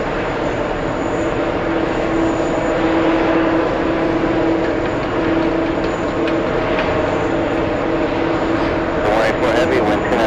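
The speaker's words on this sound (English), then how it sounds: "A220 is powering up." A steady roar rises from Airbus A220 jet engines spooling up for takeoff at JFK airport. It sounds broad, loud and continuous across the whole stretch.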